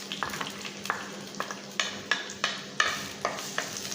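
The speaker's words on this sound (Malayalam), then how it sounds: "അപ്പോൾ എണ്ണ ചൂടായിട്ടുണ്ട്. ഇതിലേക്ക് നമുക്ക് അരിഞ്ഞു വെച്ചിരിക്കുന്ന സവാള ഇട്ട് കൊടുക്കാം." Chopped onions dropped into hot oil in a clay pot, frying with a steady low sizzle and repeated stirring scrapes at a quick, even rhythm, close and moderately quiet.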